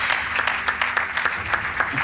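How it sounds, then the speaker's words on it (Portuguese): Studio audience applauding on a Portuguese television game show, a steady dense wash of clapping throughout, loud and close, with a faint voice underneath. "Aplauso para ele!"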